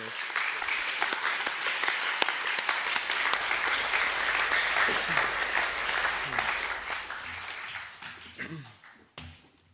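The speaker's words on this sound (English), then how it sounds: "Please give a round of applause for the Year 9 Academic A winners." Sustained applause from a school audience at an academic awards assembly for Year 9 winners, dense clapping that holds steady, then thins and fades out near the end, with some voices mixed in.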